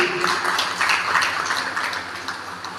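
Applause at a traders' meeting, a steady patter of many hands clapping together, fairly close and moderately loud, tapering off slightly toward the end.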